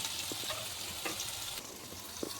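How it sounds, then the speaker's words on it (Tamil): Paneer frying in a pan for a gravy, a soft, fairly faint sizzle of oil with a few light clicks and taps scattered through it. "பன்னீரை போட்டு பொரிச்சு எடுத்துக்கிட்டு"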